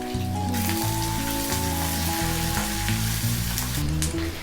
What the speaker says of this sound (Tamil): எண்ணெய் நல்லா சூடு அடித்து நம்ம வந்து எடுத்து வச்சுருக்கிற சின்ன வெங்காயம் ஆட் பண்ணிடலாம்.